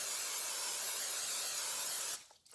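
Cooking spray hisses steadily from an aerosol can onto a pan for cheesecake bites, one continuous close spray of about two seconds that cuts off abruptly, followed by a faint clatter.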